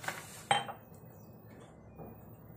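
A glass and spoon clink together while Rooh Afza rose sherbet is mixed, with one sharp clink near the start and a fainter clink later, heard close in a quiet kitchen.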